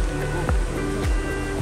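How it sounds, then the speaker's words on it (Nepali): Water splashes and rushes steadily during a motorbike ride to Jhor Mahankal, a dense continuous wash of spray and flow, fairly close, with a couple of heavier surges. "पानी छिट्याएको हो नि पानी छिट्याए नि"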